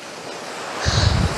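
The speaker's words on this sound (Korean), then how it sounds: "파도가 요 위에까지 올라오는 장소가 아닌데, 진짜 너무 많이 올라왔습니다." Heavy surf at Songjeong beach pushing unusually high up the shore, a close wash of waves that swells into a louder rumbling surge near the end, with some wind noise.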